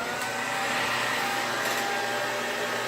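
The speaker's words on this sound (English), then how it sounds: "I'm going to continue to blow dry" A hair dryer blow-dries curly hair with a constant, close whooshing whir of airflow and motor hum, steady and unbroken throughout with no talking.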